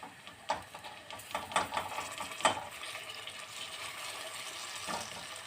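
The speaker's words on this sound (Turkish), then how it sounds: "Ee, bunun üzerine su ilave edeceğiz." Water is poured over dried pumpkin pieces in a cooking pan, a faint splashing and trickle with a few sharper spatters, no talking.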